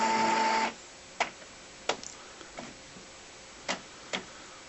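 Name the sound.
Epson printer running setup after recognising cartridge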